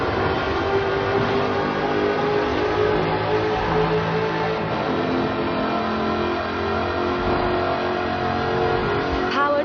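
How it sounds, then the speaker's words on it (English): A 5-litre supercharged V8 Jaguar sports car with an aluminium body in Forza Horizon 4, a continuous loud engine roar holding steady with a rich layered drone, close and dense throughout, no voices. "Powered by a 5-litre V8 supercharged engine, with a fully aluminium body, it's blisteringly fast"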